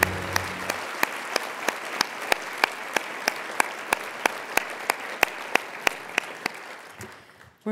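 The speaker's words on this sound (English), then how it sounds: "Give them another round of applause, please." An audience at a humanities awards colloquium applauds steadily for several seconds, a dense wash of clapping with a few sharp nearby claps standing out, fading toward the end.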